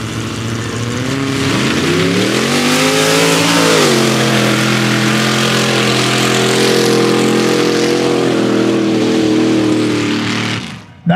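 A drag race car with a 383 stroker small-block V8 roars loudly at a mud drag event, engine revving and climbing in pitch, then holding a sustained bellow before cutting off near the end.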